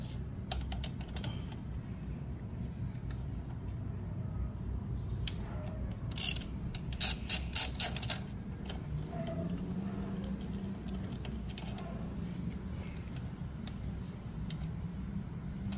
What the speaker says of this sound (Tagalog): palitan ko muna itong tatlong bolt